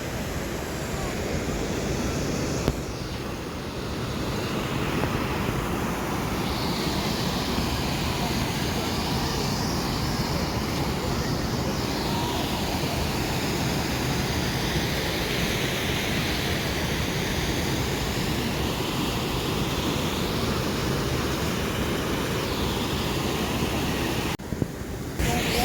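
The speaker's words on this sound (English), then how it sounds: "Quite breezy." Strong wind blowing outdoors, a loud continuous rushing roar that stays steady and close for the whole stretch with no clear breaks.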